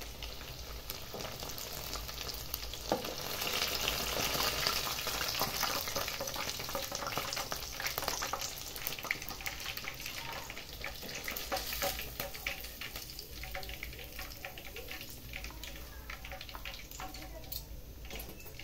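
Pieces of chicken sauté fry in hot oil in a pan, Bengali style, with a steady dense sizzle running the whole time and brief stirring clatter, fairly close.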